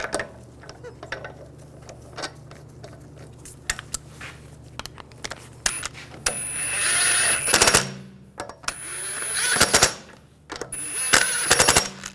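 An impact tool rattles in loud bursts, snugging down wheel lug bolts on a 2006-2010 BMW 550i, with short clanks of metal and handling noise between the runs.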